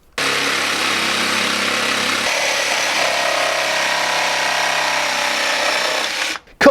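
A Lumberjack 20V cordless XP Series jigsaw with a 25mm stroke cutting material, a loud steady buzzing whine running for several seconds before stopping abruptly.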